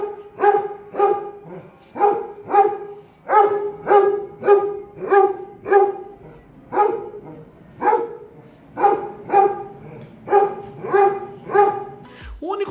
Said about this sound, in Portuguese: meu cachorro Alfredo late loucamente, sem parar